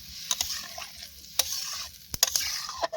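A pan of curry with a little broth added being stirred, scraping utensil strokes and clacks over a soft simmering sizzle, close up and without voices.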